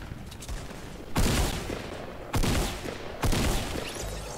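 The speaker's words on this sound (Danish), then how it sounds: "Jeg bliver skudt efter." Gunfire in the video game Fortnite: three loud bursts of rapid shots spaced about a second apart, over a busy game soundscape with no clear talk.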